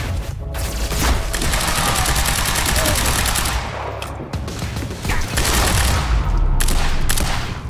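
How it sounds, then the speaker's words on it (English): Gunfire in the video game Quantum Break during a library chase: loud, sustained automatic bursts with brief gaps and sharp cracks, close and continuous throughout. "Why are they still shooting?"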